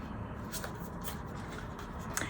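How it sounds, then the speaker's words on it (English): A deck of tarot cards is shuffled by hand, with soft repeated riffling and brushing bursts at an irregular rhythm, quiet and close, with no voice. "I am now going to shuffle, and I will return when I have shuffled"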